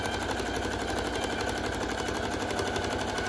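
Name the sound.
sewing machine sewing two half-circle skirts together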